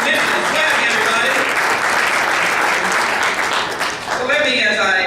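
A press conference crowd claps steadily and loudly for about five seconds, a dense wash of applause with no pauses.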